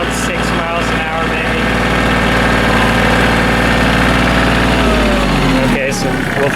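Kioti CK27 compact tractor engine running at max speed in low gear, a loud steady diesel drone with a constant low hum, easing down near the end, close and alone without talk.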